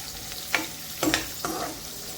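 Carrots being stirred into tawa pulao frying in a pan, with a few separate scraping strokes of a spoon over a soft sizzle, close and fairly quiet.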